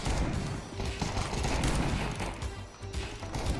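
Rapid automatic gunfire in Counter-Strike 2 rattles steadily and loudly through the whole stretch, dense bursts stacked with crashing impacts and no voices over it.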